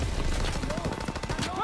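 Gunfire from a Call of Duty WWII D-Day battle, a dense, fast run of shots over a rumbling low din at steady loudness, with no clear voice in the mix.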